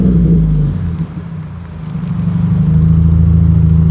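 A Renault Clio 4 RS Trophy with a 220 hp engine starts and settles into idle, a loud, steady low engine hum with a slight dip before it evens out.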